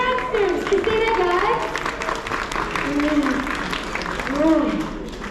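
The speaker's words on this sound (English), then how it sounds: "Give another round of applause" Audience applause at a PHS symphonic band spring concert, a steady wash of clapping and crowd noise filling the hall, with voices and cheering mixed in throughout.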